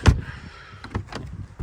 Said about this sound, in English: Let me close that door.